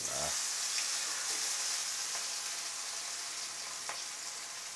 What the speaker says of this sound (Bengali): মশলা দিয়ে সব মাছ মাখিয়ে রাখা হয়েছিল, এখন ভেজে নিচ্ছে।